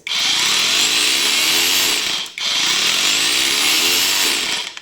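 An angle grinder fitted with an oscillating multi-tool attachment whines loudly and continuously, revving up in two long runs with a brief drop between them.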